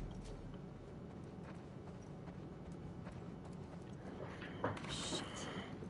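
Horse hooves clip-clopping in The Last of Us Part 2, a steady soft rhythm of footfalls low in the mix beneath game ambience, with a brief louder burst of sound near the end.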